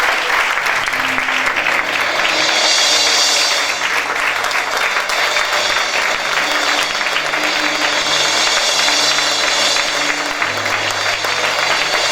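Church congregation applauding to acclaim the Lord at a Sunday worship service: loud, sustained clapping from many hands that fills the whole stretch, with a faint voice and music tones underneath.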